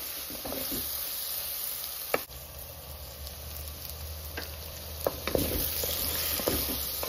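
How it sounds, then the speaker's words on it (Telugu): Okra, onion and tomato frying in oil, a continuous close sizzle with a few sharp clinks of a spoon against the pan. "ఒక 2-3 నిమిషాలు నూనెలోనే బాగా వేయించుకోవాలి"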